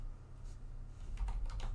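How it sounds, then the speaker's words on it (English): Typing on a computer keyboard, a few soft clicks at first, then a quicker cluster of close keystrokes over a low steady hum. "I would just be typing my math instead"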